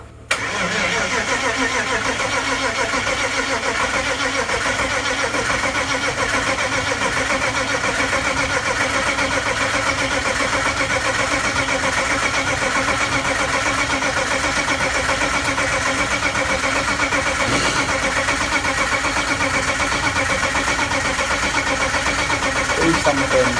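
A BMW E36 with a swapped-in M52 engine cranks and catches, then runs at a loud, steady idle close by for the rest of the stretch, with a faint voice in the background.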